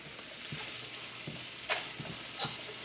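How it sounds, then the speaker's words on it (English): Onions and chicken sizzle in a stir-fry pan, a quiet steady frying hiss broken by a few soft scrapes and clinks as the food is stirred, no talking. "Onions are into the pan. Everything should be sizzling by now."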